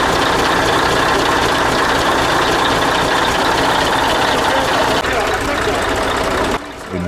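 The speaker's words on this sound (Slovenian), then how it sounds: "Skupaj smo prisluhnili velikemu osemvaljniku." A Scania V8 420 truck engine idles with a loud, steady, low rumble that holds continuously close by, then drops slightly in level near the end.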